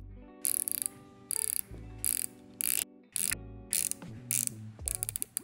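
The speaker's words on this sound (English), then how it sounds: "Bezel action is a little improved, but it still may be a little hard to turn with those narrow knurlings." A knurled bronze watch bezel is turned by hand, giving repeated short bursts of crisp ratcheting clicks in an uneven rhythm, close and isolated, with no voice.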